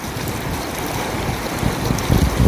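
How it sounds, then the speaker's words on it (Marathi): Floodwater from a village river that has spread across riverside farmland rushes in a loud, continuous roar with low rumbling surges, close and unbroken, with no speech. "नदी काठची पूर्ण जमीन पाण्याखाली गेलेली"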